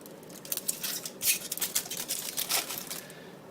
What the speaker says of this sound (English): This peel off sticker. Let's peel that off.